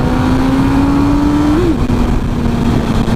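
A 2007 MV Agusta F4 1000R inline-four 1000 cc motorcycle engine roars loud and close in a steady drone, with one short rev rising and falling partway through, heavy wind rush underneath.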